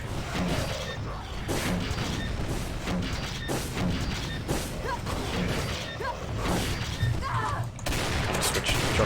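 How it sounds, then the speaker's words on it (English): Grenade launcher fire and blasts in the Doom mod Demonsteele, a run of loud, repeated booming bursts and mechanical clatter packed closely together, with a voice talking over the action. "We have a grenade launcher."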